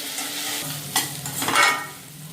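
Ginger garlic paste with garam masala, turmeric and chilli fries in a pan, a close sizzle with two quick stirring scrapes of the spoon.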